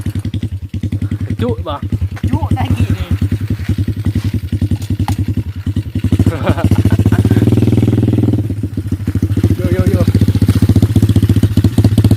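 A 125cc motorcycle engine chugs loudly and steadily on its first ride, with rapid thumping pulses and a brief rise in revs midway. Excited voices talk over it.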